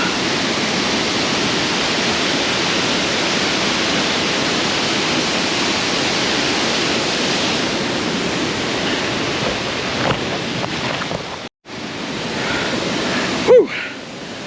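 Lava Creek waterfall in Yellowstone roars as a steady, loud broadband rush of falling water, continuous and close throughout, with a brief interruption near the end.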